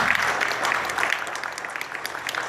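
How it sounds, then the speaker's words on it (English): Audience applause at a theatrical film premiere, a steady wash of clapping that holds fairly even and thins slightly toward the end. "just applaud for her"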